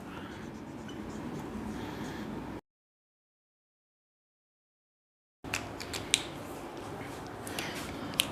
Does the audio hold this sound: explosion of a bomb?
no